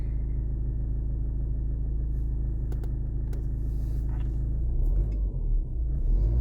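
Engine of a Renault Megane rumbling steadily at low pitch, then swelling louder as it accelerates near the end, close and alone.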